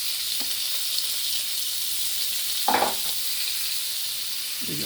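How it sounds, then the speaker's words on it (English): Onions sizzle steadily in a hot pan while a pasta dish is being cooked, a continuous bright frying hiss with a louder burst of crackle midway and a few light scrapes, close and with no talking. "Put the onions in."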